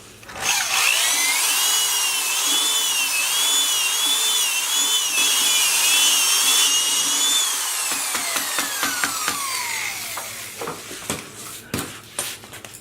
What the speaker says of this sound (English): if you have one of these really swell electric drills,